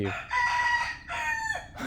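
A rooster crows loudly and close by in two long, full cock-a-doodle-doo calls, each falling away at the end, with no talk over them.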